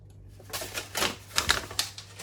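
Avocado-dyed paper crinkling in a series of sharp, crackly bursts, close and fairly quiet, with a steady low hum underneath.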